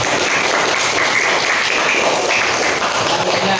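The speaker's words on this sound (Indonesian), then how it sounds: "Yuk, tepuk tangan." Applause from a group of students in a classroom quiz setting, a dense and loud continuous clapping that is close and steady throughout, with no pause.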